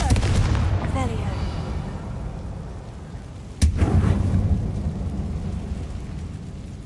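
Confringo spell blast in Hogwarts Legacy, a sudden sharp crack midway followed by a rumbling burst against a steady, noisy game background, preceded by brief whooshing effects.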